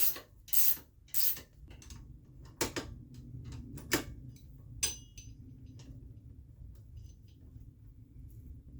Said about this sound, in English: we are going to remove the 4 nuts that hold the retainer plate on